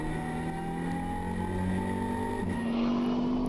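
Onboard a Lamera Cup race car lapping Navarra, the engine drones loud and steady, its pitch climbing and shifting through gear changes.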